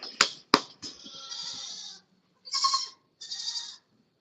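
A lone goat bleats several times near the microphone: two sharp clicks, then a long wavering bleat followed by two shorter calls with pauses and silence between them.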